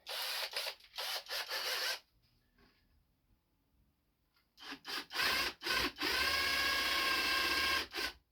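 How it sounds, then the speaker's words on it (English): A large drill bit grinds through wood in loud bursts, stops for a couple of seconds, then resumes in stuttering pulses before running continuously. "Just a big drill bit this one."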